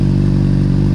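A 2012 Honda CBR600RR sport bike engine roars at a steady high rev, loud and close, with a throaty, rumbling exhaust and no talk.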